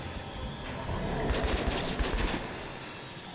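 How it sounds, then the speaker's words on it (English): A rapid burst of automatic gunfire in the first-person shooter Metro: Last Light, a dense rattling stretch of shots peaking midway over a rumbling background, moderately loud. "did I just shoot one of my own teammates?"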